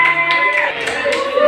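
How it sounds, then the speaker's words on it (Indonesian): Classroom applause for a student group, a short burst of scattered clapping mixed with children's voices and chatter, close and moderately loud. "tepuk tangan kelompok 2"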